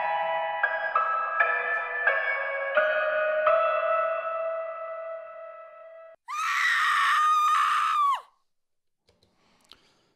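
Stock woman-scream sound effect played back on a computer, a sustained high shriek lasting about two seconds after a stretch of synthetic tones, then cutting off to near silence.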